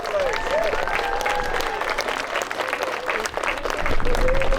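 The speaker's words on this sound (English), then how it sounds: "Give them a big round of applause, please." Loud applause from an audience at a medieval fort event after a live combat demonstration, a dense sustained clapping with crowd cheers throughout.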